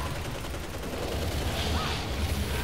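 Turrets fire nonstop in the video game Hazrd Ops, a dense, loud, unbroken roar of rapid gunfire with low booms running all the way through.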